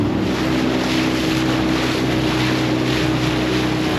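A heavily loaded tinny aluminium motorboat heads out over a reef edge in remote Australia, its outboard giving a loud, constant drone mixed with rushing wind noise and hull slapping, with no talk.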